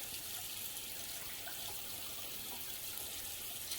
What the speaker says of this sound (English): Just a few seconds of some cold water.